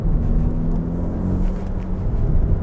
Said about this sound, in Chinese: 你就可以听到那个引擎的声音立即有反应哦